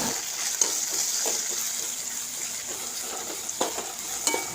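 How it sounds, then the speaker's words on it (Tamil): Shallots, garlic, ginger, curry leaves, fennel, cumin and spices sauté in a pan, giving a soft steady sizzle with light scattered stirring clicks, no talk. "ஆட் பண்ணி நல்லா வதக்கி எடுத்துக்கோங்க."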